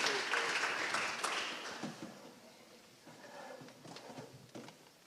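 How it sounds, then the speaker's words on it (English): Audience applause for Coach Evans and the Camden County Bruins high school football team at a media day, a loud crowd clapping that gradually fades toward the end. "Let's give a round of applause to Coach Evans and the Camden County Bruins."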